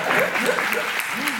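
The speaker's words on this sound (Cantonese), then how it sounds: "俾啲掌聲我朋友啊嘛" A theatre audience at a live stage-play performance applauds a guest, a dense, continuous ripple of clapping filling the room, with speech faintly audible beneath.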